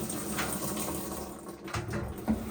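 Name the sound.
washing machine filling with water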